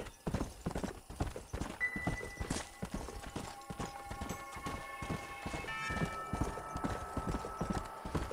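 Horse hooves from the Red Dead video game clop in a quick, steady gallop-like rhythm over faint background music, fairly loud and continuous.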